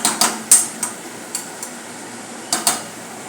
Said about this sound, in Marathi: आता यावर झाकण ठेवून टोमॅटो विरघळेपर्यंत आपल्याला